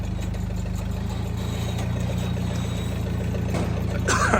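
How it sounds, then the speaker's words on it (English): A family forklift with a heavy fuel tank idles close by, a loud, steady low engine rumble running throughout without change, with a brief extra rattle near the end. "you guessed it, the Cooter family fork truck."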